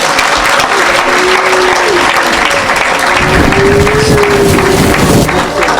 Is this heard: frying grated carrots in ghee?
no